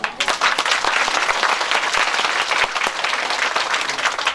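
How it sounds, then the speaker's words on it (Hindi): Audience clapping steadily and loudly at a Bhagavat Katha religious discourse, sustained applause from a crowd filling the whole stretch without pause. "भाई एक बार फिर बजा दो इनके लिए ताली"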